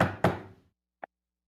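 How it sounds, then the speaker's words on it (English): A few knocks on a door: one or two loud close knocks, then a brief pause and a small faint tap, with silence after. "You knock on the door, and there's no answer"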